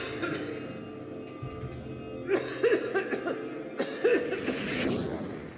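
Dry coughing from a woman with fever, several short harsh bursts in a hospital setting, fairly close over a low background murmur.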